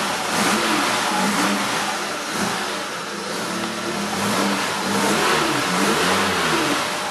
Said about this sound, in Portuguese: A gente vai dar uma aceleradinha aqui